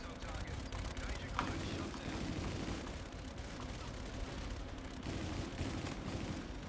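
The Pumpkin Pummeler, an epic auger gun, firing continuously in a shooter game, heard as a steady, fairly faint stream of churning blasts and rumbling impacts, with a player's voice talking over it.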